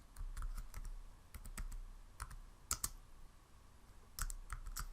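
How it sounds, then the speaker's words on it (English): Bursts of keystrokes on a computer keyboard, typing a short line of code in a quiet room, with crisp clicks grouped in quick runs and small gaps between them. "Let's type function"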